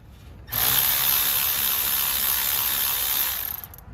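A Milwaukee power ratchet spins up and whirs steadily for about three seconds, loosening a rear brake caliper bolt on a 2011-16 Honda CR-V, a loud close buzzing ratchet sound that winds down at the end.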